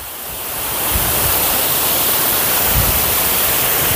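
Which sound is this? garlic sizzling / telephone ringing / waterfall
waterfall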